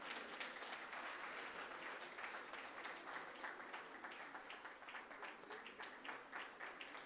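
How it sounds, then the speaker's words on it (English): A conference audience in Durban claps steadily through a gift presentation to judges, a faint, even patter of many hands heard from a distance. "So let's clap until this exercise is done."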